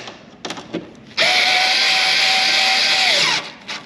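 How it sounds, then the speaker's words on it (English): Power drill snugging screws into a carbon front splitter on a Cadillac CTS: one steady, loud whirring run of about two seconds that winds down at the end, with a few short handling knocks before it. "we're going to start right here in the middle, right? And we're just going to go ahead and snug these up like that"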